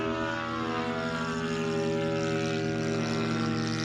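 A Great Planes F4U Corsair RC model airplane takes off at about a third throttle, its engine a loud, steady, buzzing drone held close throughout with no voices.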